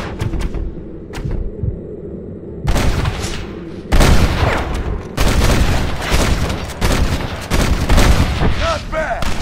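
Heavy gunfire in the Red Dead Redemption video game: dense, loud bursts of overlapping shots and booming reports that build after a quieter opening, with voices mixed in among the shooting.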